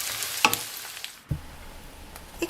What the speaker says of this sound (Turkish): Havuçları da ilave ettikten sonra 1-2 dakika daha kavurdum.